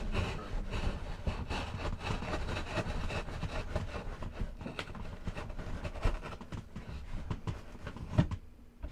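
A dull knife saws and drags through a cardboard box, making continuous close scraping and tearing with rough, repeated strokes for several seconds.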